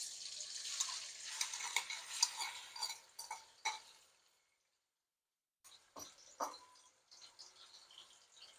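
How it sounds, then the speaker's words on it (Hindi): Two chopped medium onions hit hot oil left over from frying carrots, giving a bright sizzle with stirring clatter, then a brief silence before softer frying and a few utensil clicks resume. "2 दरमियाने साइज के प्याज चॉप किए हुए डाल रही हूँ मैं इसमें।"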